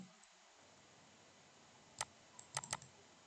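A few quick keyboard key taps, faint and close, clustered near the end after a stretch of quiet room hiss.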